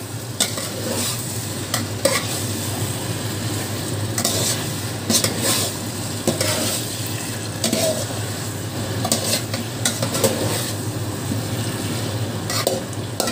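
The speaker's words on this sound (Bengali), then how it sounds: "এবার ভাজা আনাজগুলো দিয়েও একটু নেড়ে চেড়ে নেব।" Fried vegetables are tossed and stirred in a hot pan for a Bengali dal gota dish, giving a steady sizzle with repeated scraping and clinking of the spatula against the metal, close and continuous.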